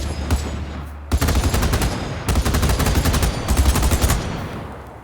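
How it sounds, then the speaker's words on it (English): RPK-16 support weapon firing in the video game BattleBit, rapid sustained automatic bursts separated by short pauses, loud and close, with no talking. "I'm gonna be quiet so you can hear the gunshot sounds and things"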